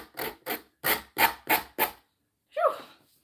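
Wood being hand-sanded in six quick rasping strokes, close and dry, then a short pause and one final scraping stroke.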